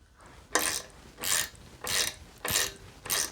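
Torque wrench tightening bicycle crankset bolts to 15 newton meters, five evenly spaced bursts of fast ratcheting clicks with short pauses between them, close and fairly quiet, with no talk.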